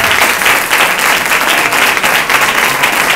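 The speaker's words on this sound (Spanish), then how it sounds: "vamos a hacer todos es dar un aplauso para Manuel, que sea un campeón en su lucha" Steady, dense applause from a crowd at a school Christmas event held for a sick child, loud and continuous throughout with no pauses.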